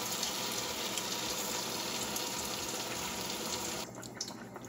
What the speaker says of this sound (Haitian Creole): On va ajouter l'eau pour la débouillir là-dedans.